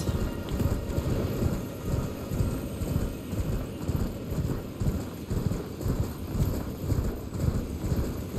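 Horse hoofbeats in Elden Ring, a steady galloping clip-clop that runs loud and close throughout over a dense rumbling rain-like wash, with no voices.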